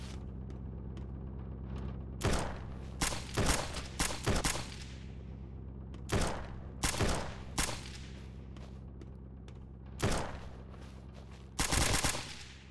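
Gunfire in the video game Surroundead: several separate bursts of rapid automatic shots, loud and close, spaced out over a steady low droning background with no talk.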